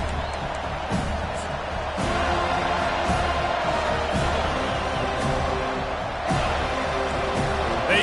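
A football stadium crowd roars in a dense, sustained wall of cheering for Florida State's kickoff, with thuds and claps within it and faint commentary over the top.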